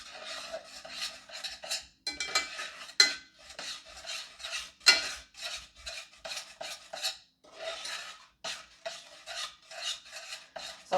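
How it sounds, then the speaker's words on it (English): Butter and white granulated sugar for snowball cookies being mixed by hand, a steady run of scraping, rasping strokes in quick rhythmic bursts with brief pauses, close and fairly loud, no voices. "White sugar goes in, gets mixed together. Mix it in with the butter."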